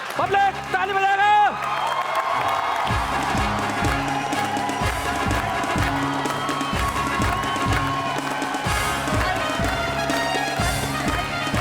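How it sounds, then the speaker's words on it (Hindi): A comedy show's studio audience claps in a steady rhythm and cheers, fairly loud and continuous, mixed with a beating musical backing. "ताली बजाएगा।"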